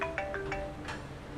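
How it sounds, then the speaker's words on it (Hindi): A mobile phone ringtone plays alone in a short, repeating electronic melody of bright chiming notes, moderately loud and close, with no talking. "एक मिनट, मेरा फोन आ रहा है।"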